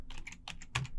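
Computer keyboard typing a short shell command, a quick burst of about five crisp, fairly quiet keystrokes in an irregular rhythm with no voice.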